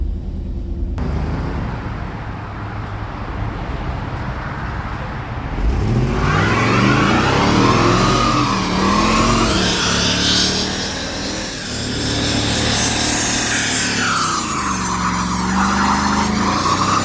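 A Chevy 2500HD pickup truck being driven, its engine revving up and down in long rising and falling sweeps, loud and close, with a steady road rumble underneath and no talking.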